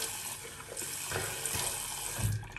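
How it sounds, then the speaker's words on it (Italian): Water runs briefly from a tap onto shaving soap in a bowl, a faint steady trickle with a few soft splashes close by, no voices. "a mettere un pelo d'acqua, proprio un pelo, nel sapone"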